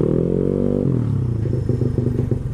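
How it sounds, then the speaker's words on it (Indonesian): A Honda Beat 115 cc scooter fitted with a racing exhaust, idling with a loud, deep, throbbing drone up close that drops in pitch and settles into a lumpy, pulsing rumble, no speech over it. "Nih suaranya nih"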